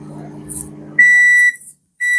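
A microwave oven, used to dry roast peanuts, sounds its alarm: loud, sharp electronic beeps in two bursts after some faint indistinct kitchen noise, with a brief gap between them.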